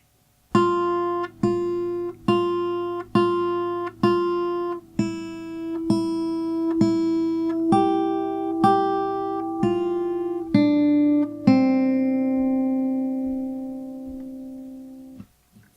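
A fingerpicked guitar melody on the first and second strings, a dozen or so plucked notes in an even rhythm, closing on a longer ringing note that fades out.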